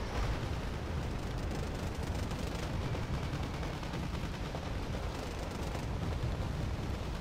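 An AGS-17 30mm automatic grenade launcher fires in the Wargame Red Dragon video game, a fairly faint, unbroken rumble of distant thumping shots and blasts rolling on steadily throughout.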